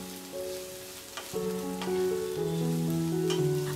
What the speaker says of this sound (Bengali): আরও 2 থেকে 3 মিনিট ভেজে নিয়ে কুচি করে কেটে রাখা বাঁধাকপি দিয়ে দেব